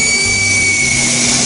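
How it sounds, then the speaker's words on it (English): A loud, steady hiss of air rushing out of a tire under pressure, with a high whistling tone running through it, close and unbroken. "You're letting the air out of the tire."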